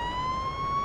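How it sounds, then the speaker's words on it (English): A police car siren wails steadily in the Police Simulator video game, a loud, sustained electronic tone with road rumble underneath. "Do you not know what a siren is?"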